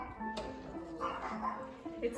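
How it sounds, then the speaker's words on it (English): A small dog yips and whimpers a few times nearby, short high barks scattered over a steady background hum. "Puppy dog. You hear the puppy dog?"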